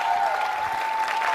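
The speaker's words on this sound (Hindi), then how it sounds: "तीनों के लिए तालियां होनी चाहिए।" Audience applause at a TV show grand finale: steady, dense crowd clapping, fairly loud, with a sustained tone running underneath.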